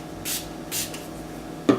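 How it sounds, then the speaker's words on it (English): Makeup setting spray is misted onto a brush in two short, soft hisses close to the microphone, followed by a brief light knock, with no talking. "spray your brush with a little bit of makeup setting spray"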